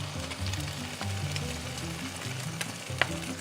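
Eggs frying on top of browned ground beef in a pan give a steady close sizzle, with a few soft clinks of a utensil and a sharp tap near the end.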